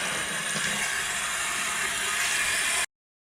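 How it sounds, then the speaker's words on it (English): A clear lexan RC car body being rinsed under a sink tap, a steady hissing rush of running water that continues evenly for under three seconds before cutting off abruptly into silence. "And then just a simple rinse."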